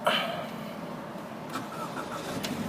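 A 2013 Scion FR-S with an automatic transmission starts up with a brief crank, then settles into a steady, even idle heard from inside the car, with no speech.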